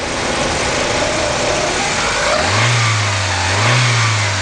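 A Ford Escort engine fitted with a Mikuni carburetor runs loud and close, holding a steady idle before two quick revs rise and fall.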